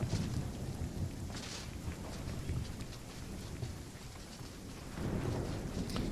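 Thunderstorm in the video game Runescape Dragonwilds, with steady rain and rolling thunder rumbling low, swelling louder toward the end, fairly faint overall and without speech.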